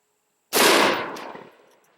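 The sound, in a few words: M855 rounds fired from a 16-inch barrel rifle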